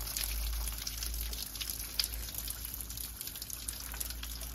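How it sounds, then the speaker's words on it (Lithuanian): Water runs in a steady, fairly quiet stream from start to finish while a car's cooling system is being worked on. "Vandenėlis bėga."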